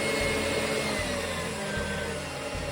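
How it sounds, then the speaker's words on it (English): A stand mixer whisks cake batter on high speed, a loud, steady motor whir with a low rhythmic pulse as the whisk spins through the bowl, running continuously with no talking. "transfer the bowl to a stand mixer and whisk on high speed"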